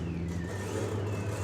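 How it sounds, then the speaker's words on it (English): Classic American sprint car built by Hiram Hillegas, its engine running at a hill climb, a steady loud drone with a low rumble and a slowly shifting pitch, heard alone. "the Hillegas sprint car, classic American sprint car"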